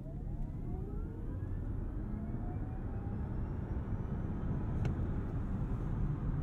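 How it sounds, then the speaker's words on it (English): 2022 Kia EV6 AWD electric SUV accelerating hard from 0 to 60 mph, heard from inside the cabin as a steady loud rumble of road and wind noise with a faint electric motor whine rising in pitch. "It is time to see how quick we get to 60."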